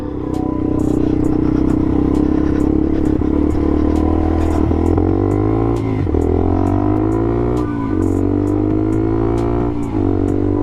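A dual sport motorcycle on big knobby tires rides off at low speed, its engine droning loud and close with repeated rises and dips in revs and some clatter, and no voices over it.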